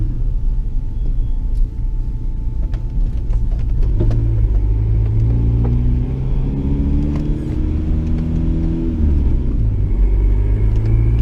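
A turbocharged all-wheel-drive Honda CR-V wagon launches from a held 3,500 rpm, its engine a steady loud rumble that rises in pitch as the car accelerates hard, with no talk over it.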